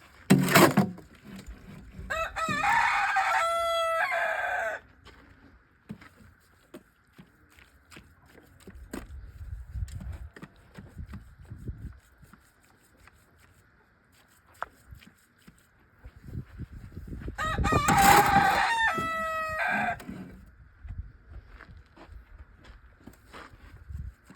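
A rooster crows twice, loud and close, with a long gap between the calls filled by quieter rustling and footsteps.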